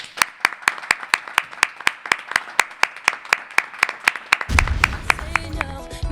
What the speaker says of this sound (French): nous allons l'accueillir sous un tonnerre d'applaudissements